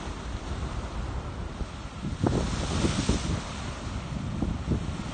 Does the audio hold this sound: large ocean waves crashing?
yes